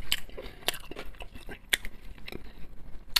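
Raw bell pepper being bitten and crunched while eating a meal of dumplings, giving several sharp, close crunches spread across a few seconds with quieter chewing between them.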